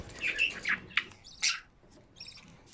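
Budgerigar chirping in short bright bursts, several quick calls with gaps between them, close and fairly clear against a quiet room.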